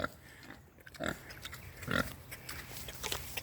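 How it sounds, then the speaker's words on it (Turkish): Pigs grunt nearby in short, rough bursts, several snorts scattered over quiet farmyard background. "Domuzlarımız bile var yani."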